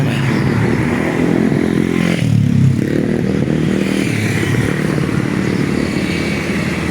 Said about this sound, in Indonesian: banyak motor dan mobil lalu lalang.